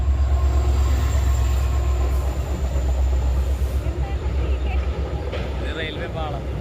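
A train rolls past a closed railway crossing, making a loud, continuous low rumble of wheels and cars that eases slightly toward the end, with faint squeals higher up.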